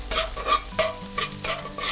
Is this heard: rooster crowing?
no